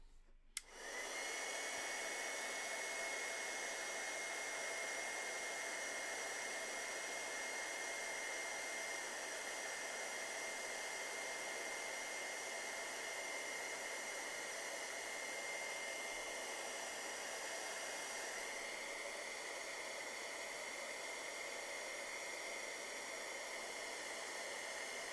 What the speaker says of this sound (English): going to grab my heat tool again